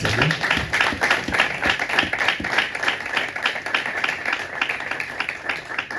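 A church congregation at a Sunday service claps in a steady, continuous rhythm, moderately loud and close, with no speech over it.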